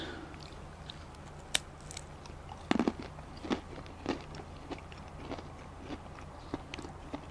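Gruyère cheese being chewed close up, soft crunchy bites and mouth sounds spread irregularly over a low steady background hum, faint overall with no talking.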